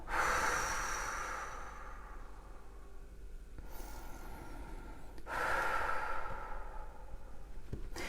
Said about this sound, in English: take a couple of deep breaths in through your nose